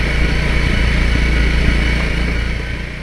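A motorcycle engine drones steadily while being ridden in the mountains in the early morning, loud and close with a constant low hum and slight wind noise, no voices.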